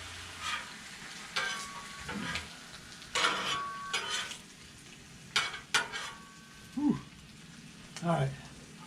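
Ham sizzles on a Blackstone griddle, a soft steady frying hiss broken by sharp metal spatula scrapes and clanks, with a person talking at times.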